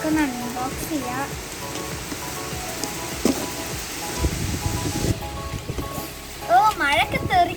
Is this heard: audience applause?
no